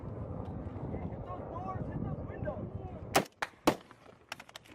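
Incoming gunfire during a Marine firefight with Taliban fighters: several sharp, loud cracks land in the last second and a half, separated and echoing, after a stretch of outdoor wind and murmured voices.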